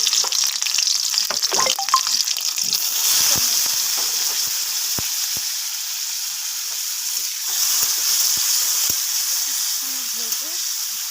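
Onion and green chili sizzling in hot oil in a wok: a steady, hissing fry close up, with scattered stirring clicks and brief soft voice sounds underneath.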